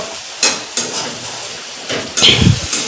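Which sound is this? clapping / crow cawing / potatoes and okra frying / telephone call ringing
potatoes and okra frying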